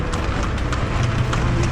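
Hooves of a loose horse clip-clop on a road in Egypt, a quick run of close, loud, evenly spaced knocks over constant background noise.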